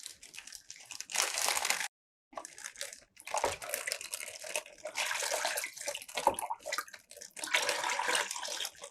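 Water pours steadily into a polythene bag with crinkling plastic, a broad rushing splash that pauses briefly, then resumes and continues in surges, close and moderately loud.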